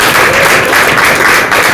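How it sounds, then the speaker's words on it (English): Audience applause for volunteers at a UNESCO digital learning event, a loud, steady wash of many hands clapping close by, filling the whole moment without a break. "a round of applause for the volunteers for what they've been doing"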